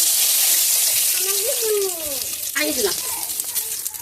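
Dry red chillies and panch phoron hit hot oil in a pan while cooking a bottle gourd ghonto with chital fish head, giving a steady broadband sizzle throughout, with a voice talking over it in the middle.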